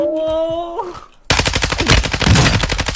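In Warzone 2.0, a Lachman 556 rifle fires a loud, rapid automatic burst of close gunshots that runs steadily to the end, after a brief stretch of game tones.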